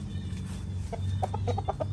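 Chickens cluck as they are herded into their coop at a home garden: a few short, soft clucks in quick succession over a low background hum.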